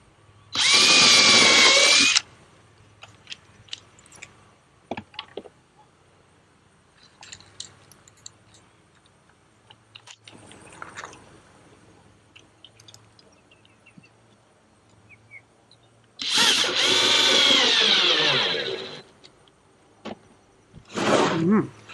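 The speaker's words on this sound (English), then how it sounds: "You want to make sure that you're drilling into the cleat, which we installed inside of the box, so that the roof can attach to that." Power drill driving into a wooden cleat inside a kestrel nest box, two loud whirring bursts at the start and near the end with a short third one, separated by quiet handling noises.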